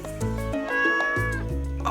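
A pet cat meows in the Stardew Valley farming game, a clear drawn-out tonal call over a steady low musical backdrop, loud and close with no talking.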